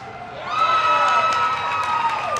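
A crowd at a National Pickleball event in Denver cheering and whooping, a lively sustained swell of voices that rises and then holds, heard from a moderate distance.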